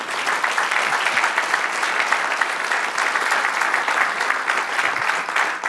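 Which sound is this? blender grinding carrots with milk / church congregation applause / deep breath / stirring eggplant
church congregation applause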